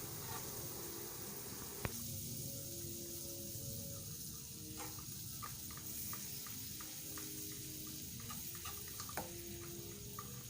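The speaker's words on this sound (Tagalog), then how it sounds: "Hayaan lang natin mag-melt to mabuti." Butter melting in a pan as the base for a roux gives a faint, steady sizzle and crackle, with a few small pops scattered throughout.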